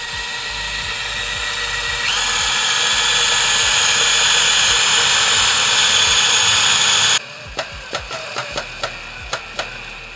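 A power drill drives a very long screw into wood, whining loudly and steadily at close range for several seconds, then stops, leaving a series of sharp knocks and clicks.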